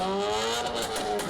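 A car fitted with a modified, fire-spitting silencer revs loudly and steadily, its engine note climbing and shifting over a continuous roar close by.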